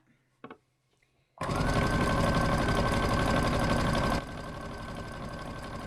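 A sewing machine starts after a few faint clicks and runs fast and continuously, stitching through fabric and wadding, then eases to a slightly lower, steady whirr for the rest.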